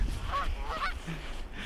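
Canada geese honking nearby in a snowy outdoor setting, two or three short nasal honks in quick succession followed by a softer call, moderately faint with no talk.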